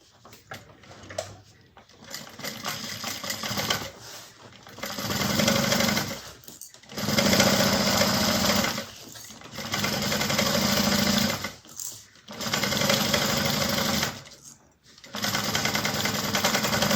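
A sewing machine stitches the lining of an Alicia bag in several sustained runs of rapid whirring, each a few seconds long, separated by brief pauses as the fabric is repositioned.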